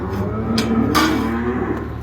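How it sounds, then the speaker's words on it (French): Dairy cows crowded together and ready to go outside, mooing loudly and close by in a steady low drone with brief clanks or shuffles, no talking. "une fois que tu as bien agaçé tes vaches, qu'elles sont toutes entassées, prêtes à sortir"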